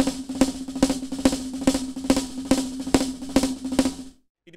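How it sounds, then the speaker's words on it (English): A drum kit plays a fast paradiddle-diddle rudiment with kick drum added, producing a dense, steady stream of close, loud strokes with regular accents that stops abruptly near the end. "Playing paradiddle-diddle fast, it sounds like this."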